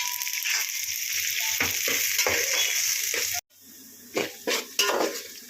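Half-raw vegetables fry in a hot pot of oil with a loud, close hiss while a spatula clanks and scrapes against the metal; after a brief cut the sizzle quiets and a few sharp utensil knocks follow, with no talking.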